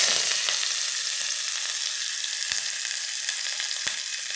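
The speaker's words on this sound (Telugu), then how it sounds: "ఆనియన్స్ వేసుకున్నాను." Onions frying in hot oil in a pan, a steady bright sizzle close by with a few faint clicks of a utensil, no voices.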